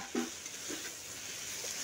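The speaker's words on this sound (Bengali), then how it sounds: "এখন চিংড়ি মাছ আর আলুটাকে দিয়ে এইভাবে একটু কষিয়ে নিচ্ছি" Shrimp and potatoes being fried and stirred in a pan, a faint continuous sizzle with a couple of soft scraping stirs, quiet and without talk.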